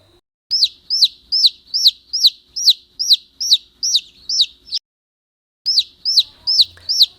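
A chicken calls in a fast, regular run of sharp, high clucks about three per second. The run breaks for roughly a second before more clucks follow, loud and close with no talk.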